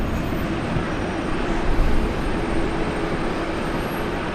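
A heavy airliner departs Brisbane Airport, a broad steady engine roar at moderate distance that swells slightly midway, continuous and without voices.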